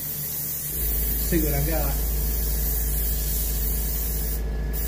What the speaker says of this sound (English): Okay, now I've got a little base coat sealer.